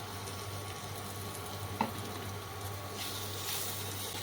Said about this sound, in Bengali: পেঁয়াজগুলো লাল করে একটু ভেজে নিতে হবে